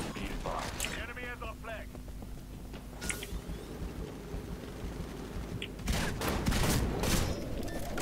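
Gunfire in the video game Titanfall during a capture-the-flag match, several sharp bursts of shots and a loud blast near the end, mixed with voices talking over game sounds.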